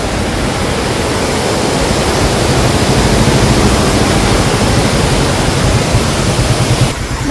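A Kerala waterfall roars as a steady, loud, broadband rush of falling water, constant and unbroken throughout with no voices over it.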